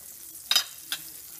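Butter hits a skillet preheated on medium-high and gives two brief, close sizzling bursts, the first louder than the second, with near silence around them.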